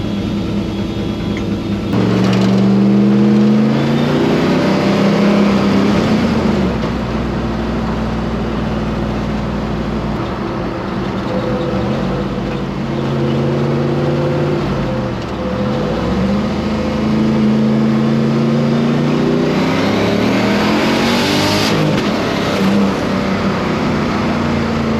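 LS-swapped Falcon with an AR5 five-speed pulls away, its engine rising and falling through several shifts, loud and close inside the cabin, with steady road noise between gear changes.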